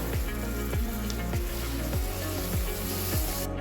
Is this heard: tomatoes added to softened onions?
yes